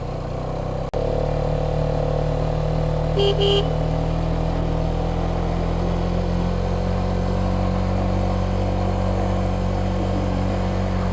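A Hero Xtreme motorcycle climbs a steep mountain road from Boga Lake toward Keokradong in first gear, its engine holding a loud, steady low drone at constant revs, with a brief high tone partway through.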